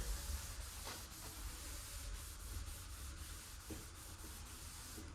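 A rag is dragged across freshly applied wood stain on a wooden joint, first in horizontal passes and then vertically. It makes a steady, close, soft rubbing and scuffing sound with faint repeated strokes, and no one talks.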